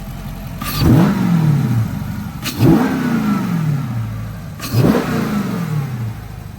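A Daytona 392 car engine with a large aftermarket intake revs hard three times in a row, each burst rising sharply then easing back toward idle, loud and close.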